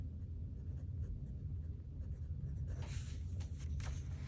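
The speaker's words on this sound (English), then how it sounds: "I'm just going to write that right here." A marker writes on paper in a planner, giving a quiet, continuous close scratching that picks up into a few brisk, louder strokes toward the end.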